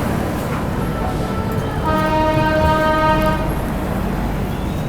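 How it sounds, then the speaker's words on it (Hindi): Mahakaushal Express pulls out of Agra Cantt railway station, a steady rumble of rolling wagons with a sustained horn blast rising in the middle, heard close and loud. "बाकी यहाँ से अपनी ट्रेन हो चुकी है डिपार्ट"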